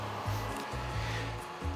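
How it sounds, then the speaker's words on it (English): A Creality Ender 3 3D printer starts up and homes its bed: steady stepper-motor tones hum and shift pitch in short segments over a constant fan whir, close and moderately loud. "The printer will heat up to its normal operating temperature, and as you can see right here, it will home the bed."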